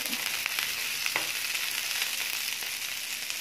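Garlic frying in a pan as the start of pinakbet, a steady close sizzle with faint stirring clicks, no voices over it.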